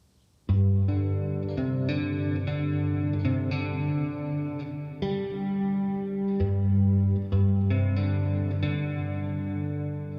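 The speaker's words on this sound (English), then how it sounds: "I've got a resonant delay before it and a flanger afterwards and a little bit of reverb" A ZOIA effects pedal gives a guitar a resonant delay, a flanger and light reverb with no overdrive, producing sustained, shimmering chords with sweeping modulation and echoing tails, loud and clear with no talking.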